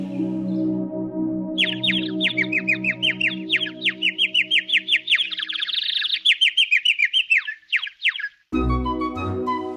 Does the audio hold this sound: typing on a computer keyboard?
no